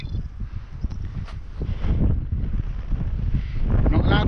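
Strong wind blows across a trout fishing water, rumbling and buffeting the microphone in continuous gusts that grow louder toward the end.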